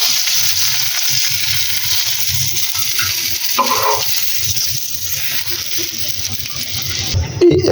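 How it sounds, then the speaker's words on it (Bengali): Eggplant pieces fry in hot oil left over from frying fish, producing a loud, continuous crackling sizzle with brief clinks from utensils. "এই একই তেলের মধ্যে এখন বেগুনগুলো ভেজে নিব।"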